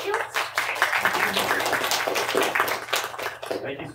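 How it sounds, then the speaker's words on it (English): Dense, steady applause from a lecture audience at an art and design college, welcoming a guest speaker to the stage; many hands clap continuously for about four seconds at an even level. "So everyone please, a round of applause for Elliot Felix."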